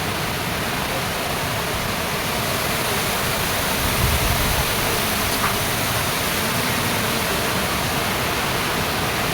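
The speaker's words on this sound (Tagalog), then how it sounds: "So, ayun, mataas yung falls. Mahaba." The third falls of Bega Falls in Prosperidad, Agusan del Sur, is a tall, long waterfall. It gives a loud, steady, broad roar of falling water that fills the whole stretch without a break.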